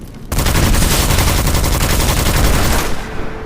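Auto rifle fire in the Witchfire shooter rips in a loud, continuous burst of evenly spaced rapid shots, starting abruptly and tapering off near the end.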